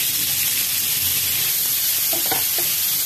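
Tomatoes, cashews, green chili and ginger pieces frying in a new frying pan, a steady close sizzle with a few brief stirring scrapes near the end, no voices.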